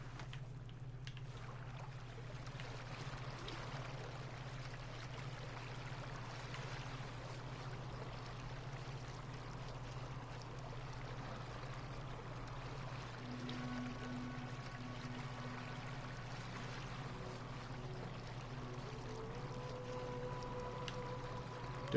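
A boat sails across open sea in Assassin's Creed Origins, a steady low rumble of water and hull running throughout, with faint tonal game music rising in the later part.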